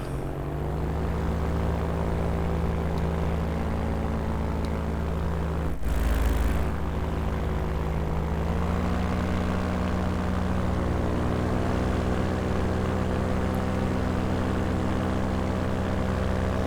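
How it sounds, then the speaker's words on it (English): A small propeller airplane comes in to land, its engine holding a steady droning hum with layered harmonics under continuous wind and cabin roar, the pitch easing slightly midway, heard from inside the cockpit. "I'm just coming in trying to make sure that I don't land too short like I do sometimes."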